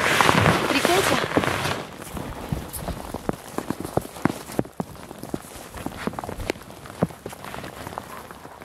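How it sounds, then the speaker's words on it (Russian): Rain patters on a tent pitched on a riverbank in early spring, with scattered distinct drops tapping close by over a soft steady hiss, after a brief louder rustle at the start. "Потому что идет дождь."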